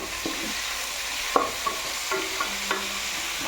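Tomato and onion frying in a pan for a Kerala-style boti and tapioca dish, stirred with a few distinct scraping clicks of a spoon over a steady low sizzle.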